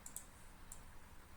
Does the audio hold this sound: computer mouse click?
yes